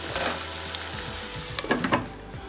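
Big onions frying for mutton kurma, a steady close sizzle in hot oil with a few brief stirring scrapes toward the end, no talk.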